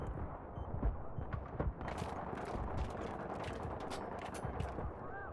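Dense gunfire in Battlefield 3 multiplayer on the Grand Bazaar map, rapid automatic bursts and single cracks firing nonstop, moderately distant and steady with no talking.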